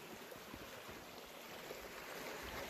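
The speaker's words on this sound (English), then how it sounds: "Little creek here is really pretty." Small creek at a woodland campsite flowing steadily, a soft continuous watery rush at low level, unbroken and alone with no voices.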